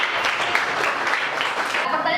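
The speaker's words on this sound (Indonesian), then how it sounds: "Iya, tepuk tangan untuk Fadil." Brief applause for a student in a classroom dance lesson, a short burst of children clapping with voices mixed in.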